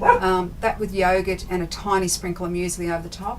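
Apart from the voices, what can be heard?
dog barking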